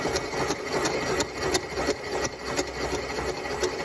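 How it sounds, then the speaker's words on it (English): A TCM-25 machine spot-faces a rocker stud boss on a Ford 351 Cleveland cylinder head with a carbide spot facer on a pilot, giving a steady motor hum with regular rapid pulsing cutting chatter, close up. "I've got my depth set on the machine, the TCM-25, and I'm just using a carbide spot facer with a pilot on it."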